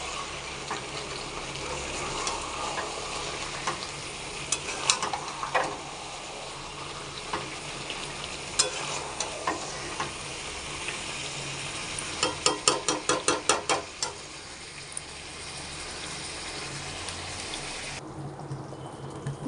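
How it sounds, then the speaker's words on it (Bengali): Water poured into a pan of masala that has been sautéed until the oil separates, giving a steady sizzle and bubbling with a quick run of sharp spatters midway and occasional utensil scrapes, with no talking. "তেল ছেড়ে গেছে, এবারে জল দিয়ে দেবো।"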